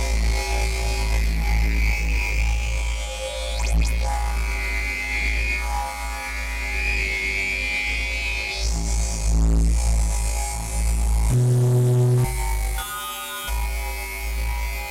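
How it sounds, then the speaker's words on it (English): Sustained gritty rip bass from a Harmor synthesizer run through a phaser, a dense, loud tone with slowly sweeping, swirling upper harmonics and a few shifts in pitch near the end. "And then a phaser, of course. Now, the phasers will probably stick out quite a bit in a sound like this."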